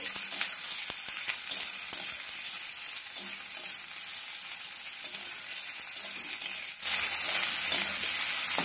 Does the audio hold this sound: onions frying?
yes